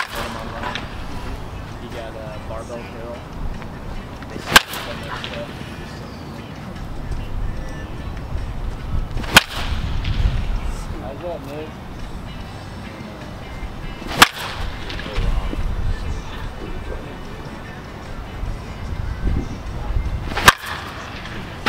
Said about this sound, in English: trying to hit the ball through the wall